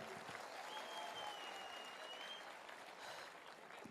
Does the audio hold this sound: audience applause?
yes